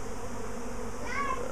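A swarm of honeybees leaving their hive makes a continuous buzzing hum, with a brief higher whining tone rising near the end over the steady drone.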